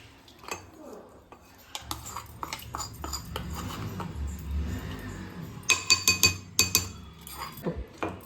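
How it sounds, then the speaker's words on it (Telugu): Spices and coconut pounded by hand in a stone mortar for country chicken curry, with hard clinks and knocks growing into a quick run of sharp, evenly spaced thuds. "ఇట్లా దంచేసుకోవాలి"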